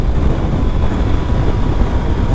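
A 2022 Suzuki Hayabusa is ridden on track at Sonoma Raceway, a steady loud broadband roar of engine and rushing wind buffeting the microphone without pause.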